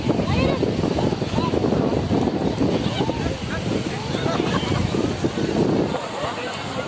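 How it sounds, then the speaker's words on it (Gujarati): Strong wind roars steadily across the microphone, a continuous loud buffeting rush with voices faintly talking underneath. "જો પવન કેટલો છે"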